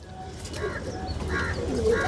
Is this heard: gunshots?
no